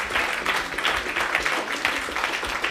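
Steady applause from an audience for a woman business owner at the close of her talk, many hands clapping in a thick, continuous wash that stays level from start to finish.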